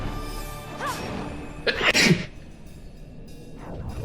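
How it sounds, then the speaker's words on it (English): A single sharp sneeze bursts out close to the microphone amid low background hum and faint noise. "I had to sneeze there."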